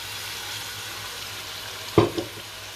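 Hot oil sizzles quietly in a pan for mash dal, then flares into a sharp, loud hiss as the lentils and water go in near the end.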